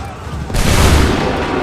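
A musket volley in Assassin's Creed 3 Remastered: a quiet lead-in, then a sudden loud, booming massed discharge that rumbles and lingers for over a second.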